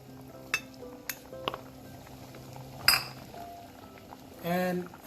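Sautéed onions go into a boiling tomato and kidney bean curry, bringing scattered clinks and scrapes of a spoon against the pot, a soft bubbling underneath, and a louder burst of stirring near the end.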